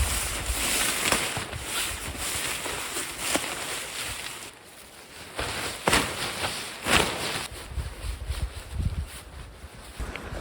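November wind picks up in a wet forest, with uneven gusts of rushing air and rustling that swell and fade over a steady background.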